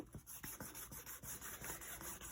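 Hand sanding along the edges of a motorcycle heat shield panel, a quiet steady rasping rub with repeated short strokes, close and alone.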